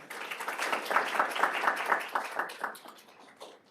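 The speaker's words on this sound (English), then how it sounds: "Let's all give" A room full of people gives a round of applause at the close of a transmission system planning session, steady dense clapping that fades toward the end.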